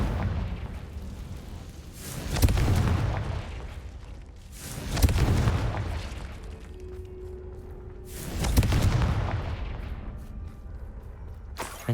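Three deep, rumbling blasts from the Confringo fire spell in Hogwarts Legacy, spaced a few seconds apart, each swelling and fading over a low ambient game backdrop.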